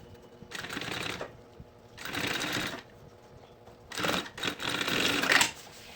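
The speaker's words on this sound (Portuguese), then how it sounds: "vamos bater aqui um pezinho de máquina" Sewing machine stitching a handbag, running in three bursts of steady rapid whirring and clatter, each a second or so long, close and fairly loud, separated by short quiet pauses.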